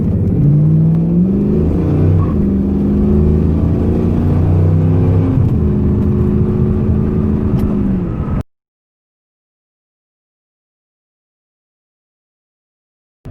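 A 1998 Pontiac Trans Am with a freshly rebuilt 4L60E automatic transmission accelerates hard, its loud engine roar climbing through rising revs and gear changes for about eight seconds before cutting off abruptly to silence.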